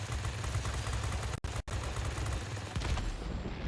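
Aircraft machine guns in World of Warplanes fire in a dense, rapid stream that stops for two brief gaps and then keeps going, loud and close.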